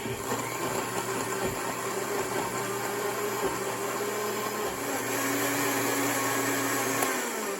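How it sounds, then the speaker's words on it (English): A blender mixing paper pulp for papermaking whirs steadily and loudly throughout, a dense churning roar with a constant high whine, easing slightly just before the end. "I'm going to put them in the blender"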